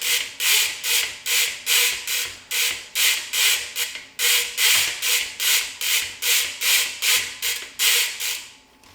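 Dirt is scrubbed off a trail bike's chain in rapid, even back-and-forth strokes, a close rhythmic rubbing of about two swipes per second without talk.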